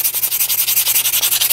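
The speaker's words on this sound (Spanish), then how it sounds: "lo que vamos a hacer entonces es pasarle lija muy al paso" Sandpaper rubbed briskly by hand over a small craft piece, a quick, even back-and-forth rasp repeating about ten times a second, loud and close with no voices.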